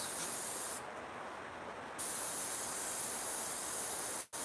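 An airbrush sprays a light mist of paint over a white masonite or MDF panel, a steady close hiss running throughout with a denser burst in the middle and a brief cut near the end.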